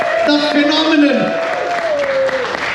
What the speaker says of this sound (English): Let's once again give him a big round of applause.